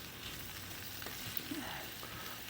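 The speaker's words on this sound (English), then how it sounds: "I don't know if you can hear the sizzle" Shrimp stir fry sizzles steadily in a hot pan as the edges caramelize, a soft continuous frying hiss with no voices.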